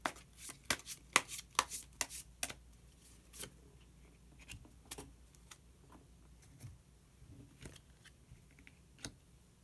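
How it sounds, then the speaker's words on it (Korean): Tarot cards are shuffled and one is drawn, heard as a quick burst of soft riffling clicks and snaps followed by sparser faint card slides and taps, very quiet and close. "그러면 마지막으로 히든 카드 한 장 더 뽑아보도록 하겠습니다."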